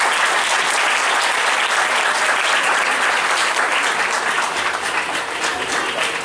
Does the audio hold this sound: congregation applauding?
yes